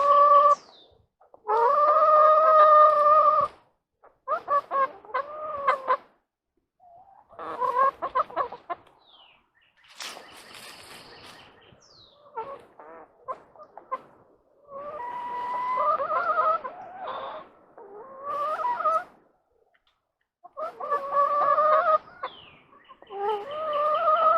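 Backyard chickens cluck and squawk in repeated bursts close by, with a rooster crowing among them and short quiet gaps between calls.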